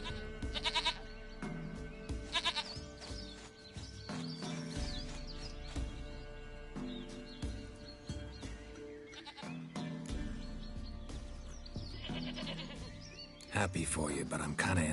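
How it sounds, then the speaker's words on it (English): A goat bleating repeatedly in the video game The Witcher 3, wavering calls mixed with game music and character dialogue, louder bursts at the start and end. "Goat of mine, dearest, sweetest goat."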